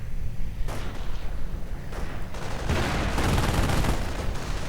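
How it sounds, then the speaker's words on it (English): A Hetzer tank destroyer fires in a World War II strategy game, with heavy booming gunfire and explosions layered into dense, continuous battle noise, close and loud with no talk. "Hetzer firing away."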